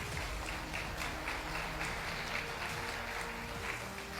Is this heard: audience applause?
yes